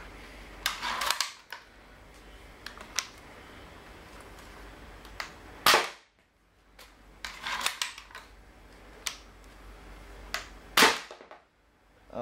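A modified Nerf Sorrow X turret with foot-long PETG barrels fires foam darts in sharp, loud snapping bursts, several shots spaced a few seconds apart with quiet mechanical clicks between them.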